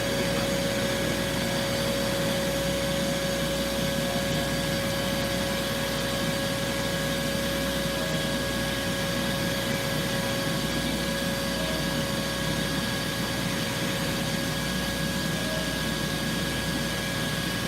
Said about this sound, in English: So we're just going to drill down another inch or so